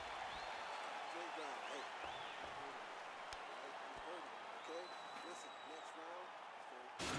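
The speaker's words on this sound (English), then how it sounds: "So the crowd voicing its appreciation after that round." Crowd applause and cheering in the EA Sports UFC 4 video game after a round, a steady dense roar that lasts throughout, with commentators talking over it.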